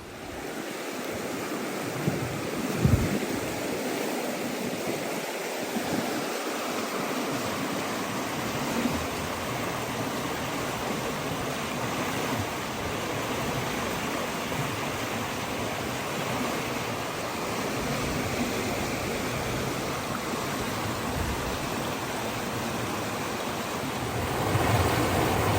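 A storm-swollen Arkansas creek rushes in a steady, full roar of churning water that stays loud and unbroken throughout, with occasional low wind buffeting against the microphone and no voices.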